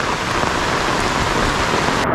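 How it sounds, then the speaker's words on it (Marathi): Steady, dense rain hiss with a broad wash of rushing water from a fast-flowing stream, continuous and loud throughout. "जसं जसं इकडे पाऊस वाढतो ना तसं ते पाणी एकदम जोरात वाहत आहे ना"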